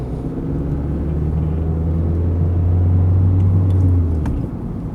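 A car engine with a steady low drone swells and rises in pitch as the driver accelerates, loud and close throughout, in a small everyday car driven after seven months without driving.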